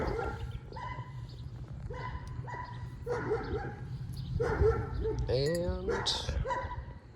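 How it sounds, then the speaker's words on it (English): Several dogs bark repeatedly nearby in loud, overlapping bursts, with some high yips and whines, while a person talks underneath. "Wow, these dogs are loud."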